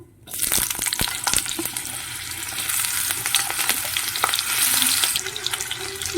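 Cut potato pieces fry in a pan for a chicken skin curry, giving a loud, steady sizzle with scattered stirring scrapes and clicks throughout.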